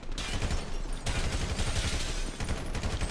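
A minigun in Grand Theft Auto V fires without a break, a dense, loud, continuous rattling roar with slight surges in intensity.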